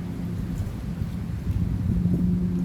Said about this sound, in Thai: ใกล้จะหมดแล้วลมมันแรงนะครับตอนนี้ก็จะมีเสียงลมด้วยนะครับ